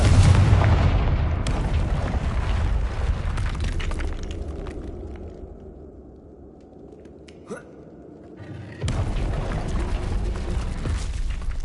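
A loud blast from the Confringo explosive spell in Hogwarts Legacy, a booming burst at the start with heavy rumble, then a quieter stretch with a small pop before another loud explosive roar fills the end.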